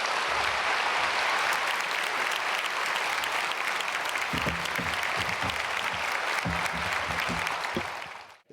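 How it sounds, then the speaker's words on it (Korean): A church congregation applauds steadily at a Sunday worship service, dense clapping filling the space, with a few low thumps and murmurs near the end before it fades out. "우리 박수로 목사님 맞겠습니다."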